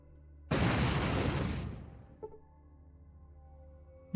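A sudden loud video game explosion in Fallout 2 bursts out and roars for over a second, fading into a rumbling tail with a small pop afterward.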